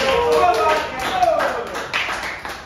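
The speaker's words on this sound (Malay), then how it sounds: "Tepuk tangan semua kita nak percaya." A class of pupils clapping their hands together in a classroom, a short burst of mixed, uneven claps under voices talking.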